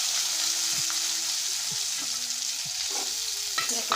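Chopped onion and cumin seeds sizzling in hot oil in a pan while being stirred for pav bhaji, a steady bright frying hiss with occasional scraping spoon strokes, close and alone.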